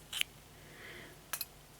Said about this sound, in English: So we're going to snip off our ends.